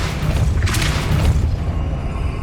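Depulso spell cast in Hogwarts Legacy, a loud, dense low boom with a brief whooshing burst partway through, sustained over a couple of seconds with no voices.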